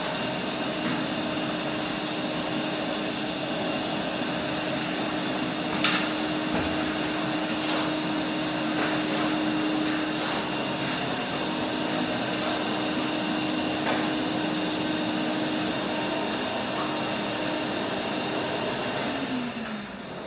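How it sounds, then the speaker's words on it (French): A vacuum cleaner runs steadily nearby with a constant whirring drone, occasional faint knocks and rattles, then powers down at the end. "J'ai fini l'aspirateur, j'ai fini de nettoyer un petit peu."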